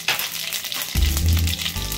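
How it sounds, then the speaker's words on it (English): Whole spices, cumin, cardamom, star anise, cinnamon, cloves, red chili and bay leaf, hit hot mustard oil, a steady bright sizzle that swells into a louder, denser crackle partway through, close and continuous with no voices. "In the same mustard oil, add the whole spices,"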